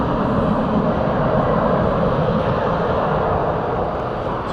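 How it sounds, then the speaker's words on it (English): An American Airlines Airbus A321 bound for Denver departs at night from DFW Airport, a broad steady jet roar holding loud and even before easing slightly at the end, with no voices. "American 577, Airbus A321, this one going to Denver,"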